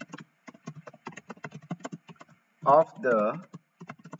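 Rapid keyboard typing of Python code on a computer, a steady run of soft clicks that pauses briefly while someone speaks a few words, then resumes faintly.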